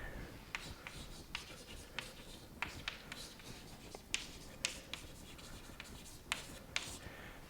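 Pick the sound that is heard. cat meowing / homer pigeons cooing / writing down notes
writing down notes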